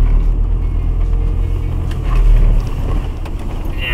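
Car driving on a slippery muddy road with its wheels slipping, a loud close rumble of engine and tyres with wind buffeting the microphone, steady and unbroken.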